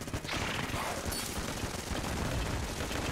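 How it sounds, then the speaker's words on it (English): Rapid sustained gunfire from the Vulcan Cannon in Enter the Gungeon, a dense continuous burst of shots filling the whole stretch at loud, even level. "I'm thinking we're gonna wanna use Vulcan Cannon in the first phase."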